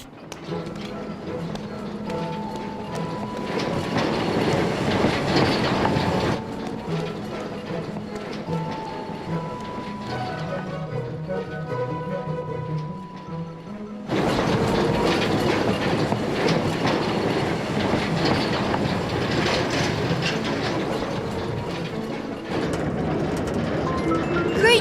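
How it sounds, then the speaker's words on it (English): A cartoon train runs along the rails with a steady clickety-clack and rumble, continuous for the whole stretch and shifting in intensity partway through, with occasional faint squeals and tones. "Stop the train"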